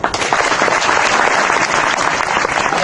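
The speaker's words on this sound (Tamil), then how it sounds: "கைத்தட்டு." An audience at a Bhagavad Gita discourse breaks into dense, continuous applause, loud and close, with many hands clapping together for about three seconds.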